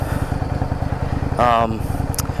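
A Yamaha V Star 650 Classic cruiser motorcycle engine runs at a low, steady throb with rhythmic pulsing, close by, while a voice briefly cuts in partway through.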